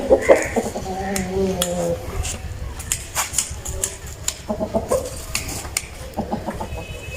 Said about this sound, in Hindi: अभी मुर्ग देखें नीचे छोड़ते हैं